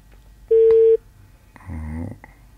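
A single steady dialing tone sounds on a phone-in radio call, loud and held for about half a second, followed by a brief burst of speech-like sound.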